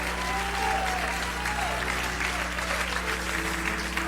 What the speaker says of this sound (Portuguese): Isso merece uma salva de palmas maior